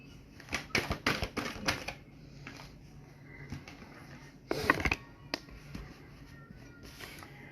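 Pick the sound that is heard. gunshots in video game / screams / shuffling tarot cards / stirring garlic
shuffling tarot cards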